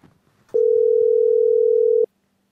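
A steady telephone dial tone holds one pitch for about a second and a half, clear and loud, starting and stopping abruptly with faint background noise around it.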